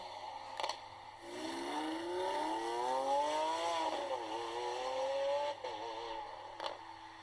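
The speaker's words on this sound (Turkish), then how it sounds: "Evet bu Lamborghini. Easy. Bakın. Böyle sesi var onun." A Lamborghini engine revs up, its pitch climbing and holding before dropping back, a smooth rising whine heard from a moderate distance.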